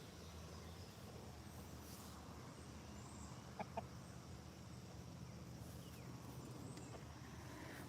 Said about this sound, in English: You are a good rooster.